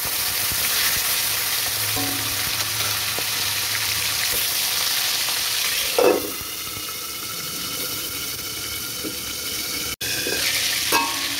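Boal fish fry in oil in a wok with a loud, continuous sizzle. A few scraping stirs come through near the middle and near the end. No voices are heard.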